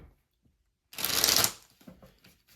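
Tarot cards shuffled in a single loud riffling burst lasting about half a second, followed by softer handling and sliding of cards as they are drawn.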